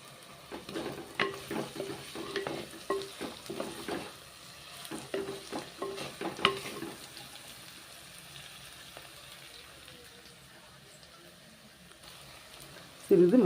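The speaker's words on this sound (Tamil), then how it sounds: "நல்லா வதங்கிட்டுருக்கு" Bitter gourd sautéing in a pan for a tangy tamarind relish, with soft sizzling and stirring scrapes through the first half, fading to a quiet low simmer, then a sudden loud clatter right at the end.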